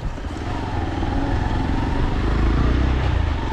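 Motorbike engine grinding along an off-road mountain track on a trek to a waterfall in the Boh Valley, Himachal Pradesh; a steady, loud low drone with a faint rise in level toward the end, no talk.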